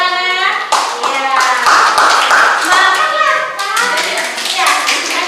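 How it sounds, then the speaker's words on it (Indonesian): Schoolchildren in a classroom break into loud, close applause with rapid overlapping claps, and children's voices chatter through it. "Iya, tepuk tangan."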